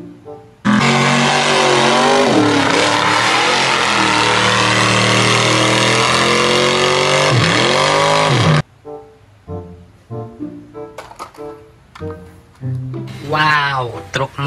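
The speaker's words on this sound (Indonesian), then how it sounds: "Wow, truk monster kawan." A loud monster truck engine roars and revs in a sustained, droning burst lasting several seconds, cutting off abruptly before a voice speaks in excited bursts.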